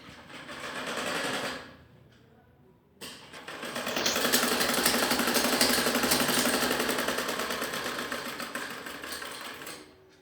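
An electric sewing machine stitches salwar panels with a steady, fast mechanical whir. A short run is followed by a brief pause, then a longer, louder continuous run that fades slightly at the end.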